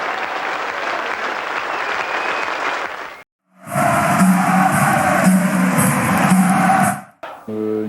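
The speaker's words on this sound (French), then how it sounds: "Je vous demande de l'applaudir, de vous lever s'il vous plaît" Stadium crowd applauding at Max Bossis's 1993 football jubilee in Nantes: loud, sustained clapping, a brief drop to near silence, then a fuller swell of crowd cheering and clapping that cuts off abruptly.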